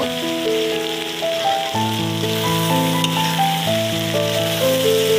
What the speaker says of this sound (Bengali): ফুলকপি ভাজার সময় ভালোভাবে একটু ভেজে নিতে হবে।